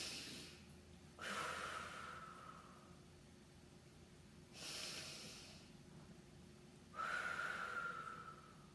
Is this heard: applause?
no